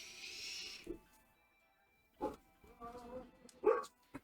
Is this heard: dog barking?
yes